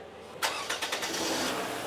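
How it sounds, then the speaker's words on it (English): A Toyota RAV4 engine cranks and catches, a few quick bursts of the starter followed by the engine settling into a steady, close running rumble. "So start the engine"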